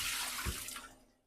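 Water pours off soaked rice being drained for lamb biryani, a short gushing splash that rises to a brief thud and then trails away quickly.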